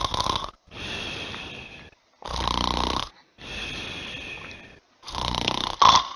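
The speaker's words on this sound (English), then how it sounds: "Come on, get the snoring over with" Cartoon character snoring from an animated SpongeBob and Patrick Show episode: four long, rasping snore breaths with short silent gaps between, loud and close, ending with a brief squeaky whistle.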